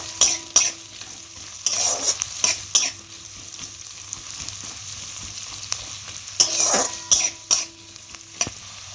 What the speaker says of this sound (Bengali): আমি এখানে দুটো চেরা কাঁচা লঙ্কা দিচ্ছি।